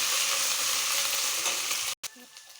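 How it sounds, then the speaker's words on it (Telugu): Whole garam masala and ginger garlic paste fry with browned onions for egg biryani. A dense, loud, close sizzle breaks off briefly near the end, then resumes more quietly, no voices. "దీంట్లో హోల్ గరం మసాలా, అల్లం వెల్లుల్లి పేస్ట్, పచ్చి వాసన వేయడంతో వేయించుకోవాలి."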